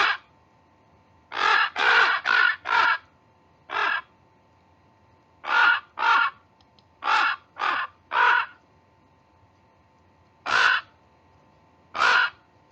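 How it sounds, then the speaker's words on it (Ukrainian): A crow in spring woodland caws in short repeated bursts, about a dozen harsh calls grouped in twos and threes with pauses between, clear and fairly near against a quiet background. "Ворона."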